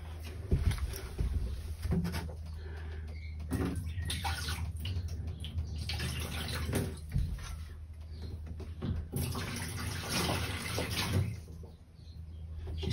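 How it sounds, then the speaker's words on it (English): Water pouring into a campervan's freshly plumbed water tank during a van conversion, a hollow, splashing trickle with intermittent gurgles and knocks, fairly quiet and close, with no one speaking. "I can now put some water in it and try it out"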